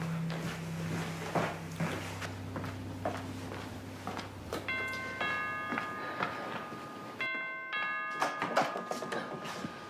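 A doorbell rings in a tense domestic drama scene, sounding as two bright chimed tones that come partway through and then repeat, over shuffling, knocks and room movement.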